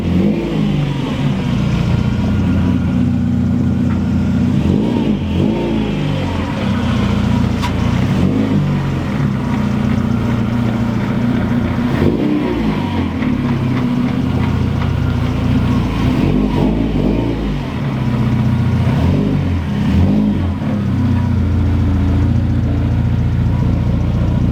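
A car engine runs steadily up close and is revved repeatedly in a garage, with a throbbing low idle broken by periodic rises in pitch.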